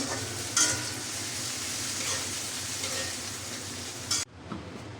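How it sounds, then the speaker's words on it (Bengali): Fish fry in hot oil in a pan, a loud, steady crackling sizzle with occasional pops, cutting off abruptly near the end and leaving quieter background sound. "আর এই যে মাছগুলা ফ্রাই করছি"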